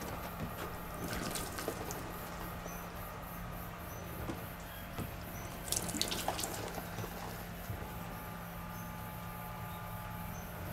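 Water is poured onto a taut, Nikwax-treated Carinthia Observer bivvy bag, a soft, steady splashing and trickling with a few brief louder patters, fairly faint and heard close by.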